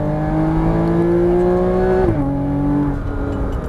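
A Porsche Cayman GTS engine pulls hard on track, its note climbing steadily, then dropping sharply as a gear shifts before rising again, loud and close from inside the car.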